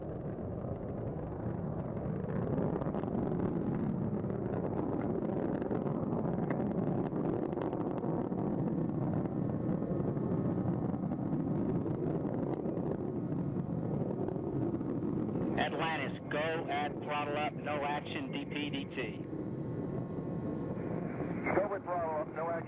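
Space Shuttle Atlantis roars as its three liquid-fuel main engines fire during launch, a constant broad rumble heard from a distance, with radio voices breaking in toward the end.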